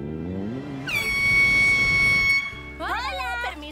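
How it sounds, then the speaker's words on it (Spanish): A horn blasts a single long, steady, loud tone in an animated cartoon from the Enchantimals series, with cartoon voices heard before and after it. "¡Que suene la bocina!"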